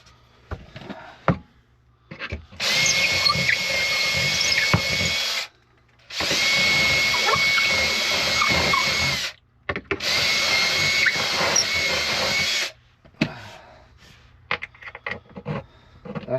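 A power drill drives screws to mount a new table on a Lagun milling machine, with three long, loud whirring runs separated by short pauses and scattered clicks and handling knocks at the start and end.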